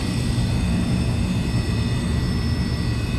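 A gas heating unit's burner has lit and runs with a steady, even roar and hum, continuous and close, with no voices.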